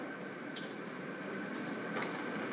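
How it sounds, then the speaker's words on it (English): A long-distance train rolls along with a steady, faint rumble of wheels on rails, broken by a few brief metallic clicks and rattles, with no voices. "The long-distance train will depart at precisely,"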